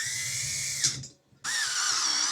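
A power drill drives bolts into a swivel bar stool, a loud close whine that stops briefly after a burst, then resumes steadily; no speech.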